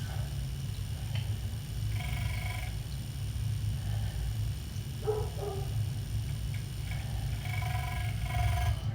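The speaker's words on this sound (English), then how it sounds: "There's a dog barking somewhere in the distance." A dog barks faintly in the distance, a few separate soft yips and barks heard over a steady low indoor hum.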